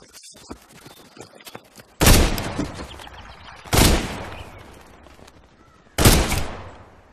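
Gunfire rings out in a Thai village comedy film: three sharp, loud shots spaced a couple of seconds apart, each trailing off in a short echo, with quiet scuffling and faint sounds between them.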